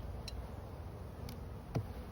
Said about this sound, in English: there's a lot of bees in that box below that too